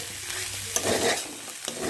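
Spinach being stirred as it fries in oil, giving a soft sizzle with scraping stirs of a spoon against the pan at close range, with no talk.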